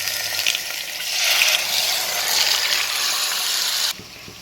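Masala-marinated chicken sizzles in hot oil with curry leaves, a steady, close hiss of frying that cuts off abruptly near the end, with no talking.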